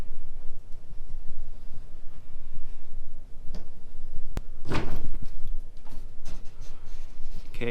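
Clipped plywood access panel in a basement being opened: a few sharp wooden knocks and clacks, one louder thump near the middle, close by amid light handling noise.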